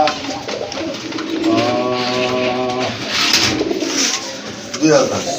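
A pair of Andalusian-colour pigeons coo at a bird market, a close rolling coo sounding clearly through the middle, with people talking nearby throughout.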